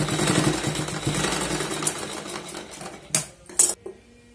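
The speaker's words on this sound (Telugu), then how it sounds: "నేను మెషిన్ కుట్టు వేసేస్తున్నాను" A sewing machine stitches thread piping for a neckline and sleeves. Its steady running mechanical chatter is followed by a few sharp, loud clacks near the end, with no talking.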